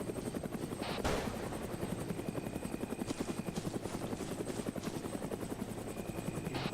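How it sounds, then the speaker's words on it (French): An armed transport helicopter in the military shooter Arma 3 keeps up a loud, rhythmic rotor beat and engine drone for the whole stretch, heard close and alone without talk. "C'est un hélico de transport, notamment armé a priori."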